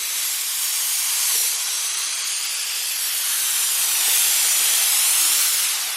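A spray can or gun lays primer onto a car body panel over bare metal, giving a steady, close airy hiss that runs unbroken throughout.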